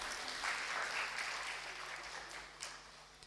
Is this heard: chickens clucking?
no